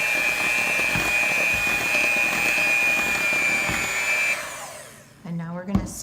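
An electric mixer whirs loudly and evenly through chocolate chip cookie dough as dry ingredients are worked in. The motor runs steadily for about four seconds, then winds down, followed by a brief voice.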